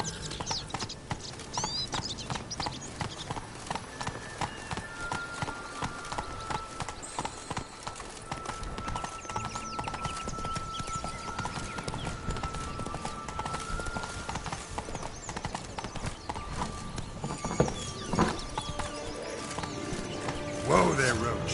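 Hooves of the horse Roach clip-clop steadily at a gallop through a video game world, a continuous rhythmic patter with game ambience and occasional talk layered over it.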